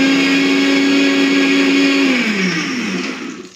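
A kitchen mixer-grinder whirs loudly as it grinds ginger, garlic, cumin and onion into a spice paste, its steady motor tone holding before winding down and fading over the last second.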